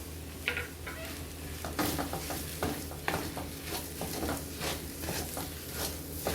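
Spoon stirring urad dal kachori filling with coriander leaves in a hot pan, steady scraping and clinking over a continuous sizzle, close and busy with no talk.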